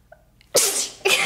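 A short, sharp sneeze bursts out after a faint intake of breath, followed quickly by a second smaller burst.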